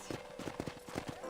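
Rapid rhythmic clip-clop of horse hooves galloping in the video game Red Dead Redemption, close and steady, over a quiet background.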